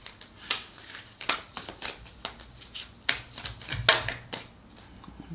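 A deck of tarot cards is shuffled by hand in short irregular bursts of riffling and slapping, close up with quiet pauses between them.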